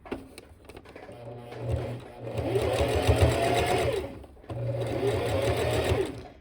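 A sewing machine stitches pintucks along a white bleached cotton dish towel, running in two bursts of steady rapid stitching separated by a short pause.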